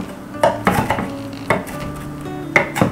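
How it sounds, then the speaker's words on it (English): Kitchen knife roughly chopping fresh spruce tips on a cutting board, with several uneven, sharp chops close by and no speech. "I'm just roughly chopping the spruce tips with his knife."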